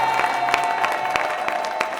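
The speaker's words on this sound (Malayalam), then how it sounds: "ഈ കൈയടിയാണോ?" A crowd applauds at a film event, a dense steady patter of many hands clapping with scattered louder claps, sustained and fairly loud for the whole moment.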